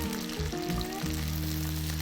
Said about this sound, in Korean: 160도, 70도 정도 온도에서 튀기시면 되고요